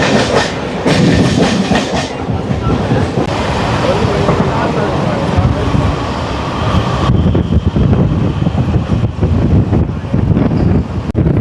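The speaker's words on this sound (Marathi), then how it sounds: "बदलापूर रेल्वे स्टेशनच्या आणि आता निघाली सुद्धा." CSMT–Khopoli fast local train leaving Badlapur station, a loud rolling rumble with steady clickety-clack wheels and gusts of wind buffeting the microphone, while someone speaks over it.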